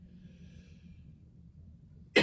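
A single sharp cough from a person bursts out at the very end, after a stretch of quiet low room hum.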